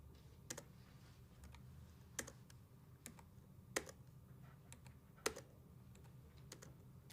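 Faint, sparse computer keyboard key presses, a handful of sharp isolated clicks spaced about a second apart, with a few lighter taps in between over quiet room hum.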